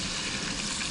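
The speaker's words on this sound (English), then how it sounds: "he's frying those eggplant." Eggplant frying in a pan at an outdoor Palauan family gathering, a steady dense sizzle and crackle of hot oil filling the whole moment, close and even, with no talk over it.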